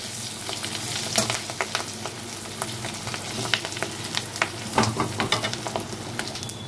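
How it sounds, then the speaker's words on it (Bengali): Fish roe fries in a pan while a spatula breaks it into small crumbs, with a steady close sizzle and repeated sharp scraping taps of stirring. "এখন আমি এটাকে এইভাবে ছেনে দিয়ে ভেঙে একটু গুঁড়ো গুঁড়ো করে দিব, মানে ভুজিয়ার মতো বানিয়ে নিব"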